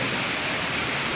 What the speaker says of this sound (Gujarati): બહુ વરસાદ બાપુ